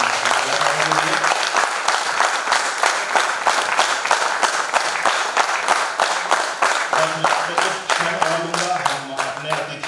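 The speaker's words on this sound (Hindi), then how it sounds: "तो जोरदार तालियां एक बार फिर से कलाकारों के लिए।" Loud, sustained applause from an audience for stage performers, dense and continuous with some crowd voices mixed in throughout.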